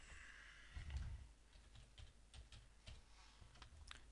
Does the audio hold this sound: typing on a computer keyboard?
yes